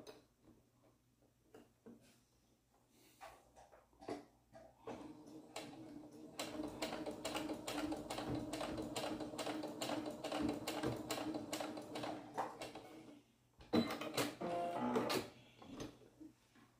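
A sewing machine stitches a lock stitch while altering clothes, starting with scattered quiet clicks, then a fast regular run of needle taps for several seconds, and a short final burst.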